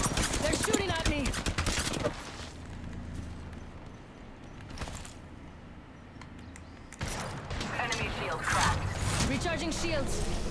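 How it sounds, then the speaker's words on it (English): Bursts of rapid gunfire from the video game Apex Legends crackle loudly at the start and again near the end, separated by quieter stretches, with a voice talking over the action. "They're shooting at me."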